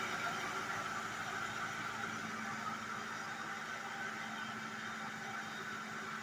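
A Mercury Grand Marquis LS with its 4.6 V8 idles smoothly and quietly, a steady low hum with faint even texture and no revving.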